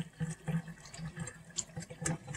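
Water is strained off freshly washed conch meat in a kitchen, a short run of uneven splashing and pouring gurgles, close and moderately quiet.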